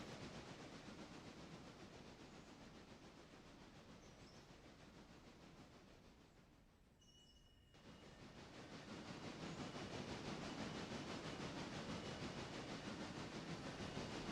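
A steam locomotive venting steam in the railroad simulation game Railroader: a broad, loud, continuous hiss that thins briefly in the middle and then returns stronger, with no voices.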